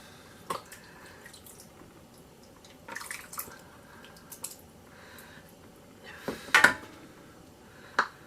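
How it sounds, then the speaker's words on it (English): Homemade chicken bean and barley soup ladled into jars held over a pan, with soft wet drips, splashes and a few clinks of glass and metal against a quiet background, close by. "Now I like to fill my jars up over the pan, just in case I have any leaks."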